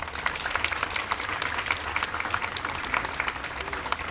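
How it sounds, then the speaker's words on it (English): A round of applause from an audience at a ribbon-cutting ceremony for a housing project, a steady, even crackle of many hands clapping at moderate volume throughout. "So big round of applause."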